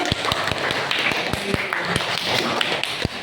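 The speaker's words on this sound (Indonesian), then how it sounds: "Kasih aplaus dulu." A classroom group gives applause for a student's answer, heard as scattered uneven claps and taps over a murmur of voices, moderate in level.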